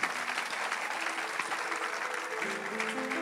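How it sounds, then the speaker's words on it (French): A church congregation applauding at an evening service, steady dense clapping throughout with a faint sustained musical tone underneath. "Acclamons Jésus"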